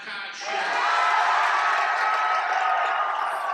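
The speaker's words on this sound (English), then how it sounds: "A thunderous applause." A gymnasium crowd at a boys' high school basketball championship breaks into loud, sustained applause and cheering with whoops for the MVP winner, swelling after a brief start and holding steady.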